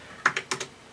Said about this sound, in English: So, I'll just type it in on the Packard Legend 1510 Supreme for everyone to see.